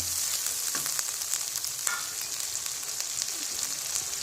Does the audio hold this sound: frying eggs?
yes